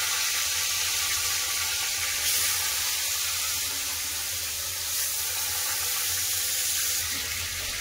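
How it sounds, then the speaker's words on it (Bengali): A fish head fries in hot mustard oil in a wok, giving an even, continuous close-up sizzle that holds steady throughout, with no voices. "মাছটা ভাজা হচ্ছে।"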